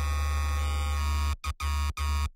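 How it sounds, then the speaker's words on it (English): Harmor software synth patch, heavily detuned and pushed through asymmetric distortion, plays as a dense buzzing sustained tone with heavy low end, cut by three short gaps near the end. "there is absolutely nothing except for this detune and this distortion"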